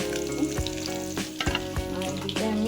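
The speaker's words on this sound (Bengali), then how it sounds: "এদিকে ডিম ভাজা করছি" Eggs fry in a pan with a steady sizzle, with a few sharp clinks and scrapes breaking through over a background of tonal music.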